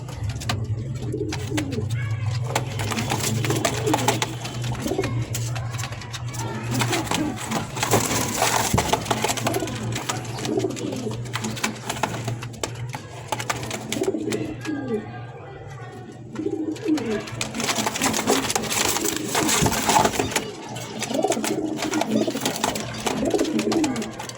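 Sirazi racer pigeons coo repeatedly at close range over a busy background of rustling, scraping and handling noise, with a brief quieter lull partway through.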